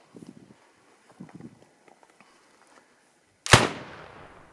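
Single loud rifle shot while hunting African plains game, a sharp crack with a rolling decay, following a stretch of faint, quiet rustling and shuffling sounds.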